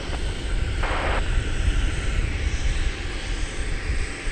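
An airliner on approach to a DFW Airport runway at night, its engines a steady, loud broadband roar with no gaps, heard from nearby on the ground.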